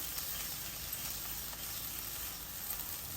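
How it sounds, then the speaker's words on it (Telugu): Shredded cabbage frying in a pan, a steady broadband sizzle and hiss at moderate level, continuous with faint crackles and no voices. "బాగా ఫ్రై అయిపోయింది"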